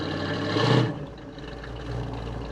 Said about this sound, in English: you're definitely going to hear that exhaust note